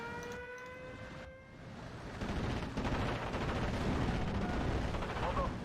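Gunfire strafes an anti-tank gun in the WWII strategy game Steel Division: Normandy 44, a Cromwell tank firing at range; dense rattling shots build and hold loud over a rumbling battle bed after a quieter opening.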